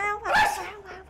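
A dog gives a short yelping bark or whimper, loud and close, a single burst lasting about a second in an indoor family scene.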